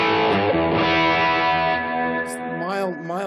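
Sustained electric guitar chords through a GNI Multi Fuzz and Vintage Distortion pedal into a clean amp, a thick, fuzzy distorted tone ringing loudly, slightly bending and wavering before fading a little.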